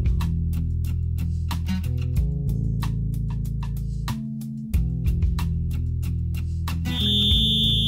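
A loud electronic alarm blares steadily across an army camp of tents, a sustained tone with rapid pulsing that shifts pitch partway through and runs unbroken with no voices.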